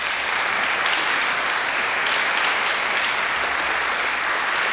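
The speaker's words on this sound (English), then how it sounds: "So please give a warm to you round of applause to Mr. Lonnie Johnson." An auditorium audience applauds a guest speaker at a lecture event, a dense, steady wash of clapping from many hands that holds even and loud throughout.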